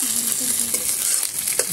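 Spice masala fries in a pan on a cracked clay stove, giving a steady close sizzle with scraping stir strokes through the short stretch and no talking.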